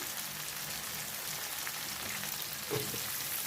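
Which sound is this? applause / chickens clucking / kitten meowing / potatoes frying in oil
potatoes frying in oil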